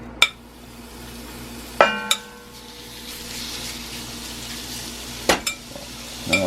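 Curry powder frying in a cast iron pan gives a low steady sizzle, broken by a few sharp metallic clanks of utensils against the pan.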